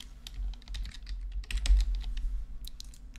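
Fingers type on a computer keyboard in quick, irregular bursts of close, crisp key clicks, with a few short pauses between runs of keystrokes.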